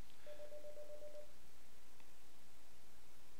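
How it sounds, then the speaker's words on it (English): A phone places a call into a Samsung OfficeServ phone system, heard as a brief faint tone lasting about a second, followed by quiet line hiss. "so now when my phone calls again"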